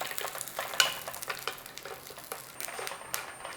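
Chana dal, urad dal and peanuts toasting in a pan, a quiet steady crackle and sizzle with light scraping stirs throughout, no talking.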